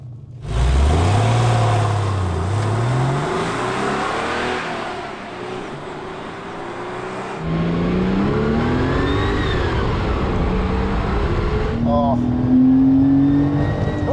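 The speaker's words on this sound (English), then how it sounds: "it was a kind of an intake noise where it kind of went all kind of boomy and lovely" A Porsche 993 Carrera 4S engine revs up and down with a deep, boomy intake roar, rising and falling through gear changes, fairly close and loud.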